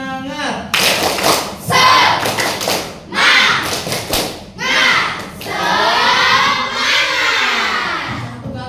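A classroom of children doing the 'tepuk semangat' clapping routine, with loud rhythmic bursts of group claps and thumps, mixed with chanting voices and a rising shout near the end.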